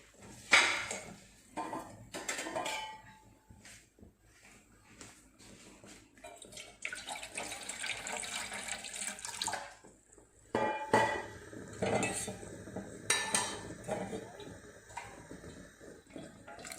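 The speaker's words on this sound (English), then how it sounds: "So here's I'm adding more water in that same bowl I have used for dal." Water runs and splashes into a bowl previously used for dal while South Indian sambar is cooked, with intermittent pouring bursts and clinking of dishes in a home kitchen.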